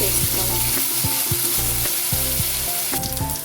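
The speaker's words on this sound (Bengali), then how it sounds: "এবার একটা মশলা পেস্ট দিয়ে দিচ্ছি।" A spice paste of ginger, green chilies, peppercorns and tomato fries in oil, a dense close sizzle broken by repeated rhythmic scrapes and taps of a spoon stirring the pan, no voices.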